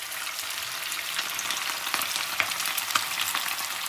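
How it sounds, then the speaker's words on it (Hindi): Onion and chilli korma kababs frying in hot oil, a dense steady crackle and hiss with scattered sharp pops, close and even, with no talking. "तो अब इनको फ्राई करते हैं"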